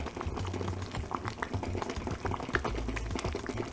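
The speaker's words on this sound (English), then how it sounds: "Our soup is starting to almost boil." Chicken soup with bamboo shoots bubbles and pops in a pot, a busy irregular crackle of small bursts heard up close.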